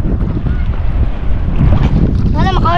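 Strong wind roars and buffets the microphone in a loud, continuous rumble, with a voice briefly audible underneath near the end.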